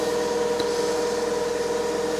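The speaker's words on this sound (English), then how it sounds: "Engine sounds like it should do now." A Fiat 500 engine with a new exhaust idles steadily with an even, buzzing hum and a faint rhythmic pulse, close by and unbroken.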